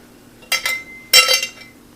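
An MSR Pocket Rocket stove rattles inside a metal Stanley water cup, giving two short clusters of bright metallic clinks, close and crisp, separated by a brief pause.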